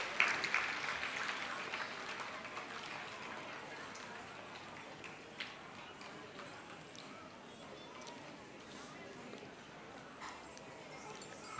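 Audience at a school annual day dance fest applauds a student, a steady crowd of clapping at moderate distance that stays even for several seconds, with faint talk underneath.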